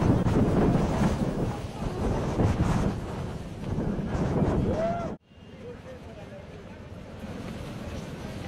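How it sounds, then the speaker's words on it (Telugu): Strong gusty wind roars and buffets a microphone outdoors at a protest tent site, loud and steady. It cuts out abruptly for a moment, then returns as a lower rumbling gale. "ఈదురుగాలుల బీభత్సానికి వైసీపీ వేసిన టెంట్ కూలిపోయింది"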